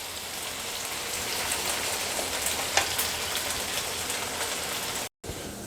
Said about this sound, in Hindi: भिंडी हमारी फ्राई हो रही है